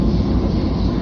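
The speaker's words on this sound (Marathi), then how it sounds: "इथनं वंदे भारत नावाची गाडी आहे" A Vande Bharat train running in Kashmir near Srinagar station, on the route over a very high bridge, gives a steady, close, low rumble that fills the whole brief moment without a break.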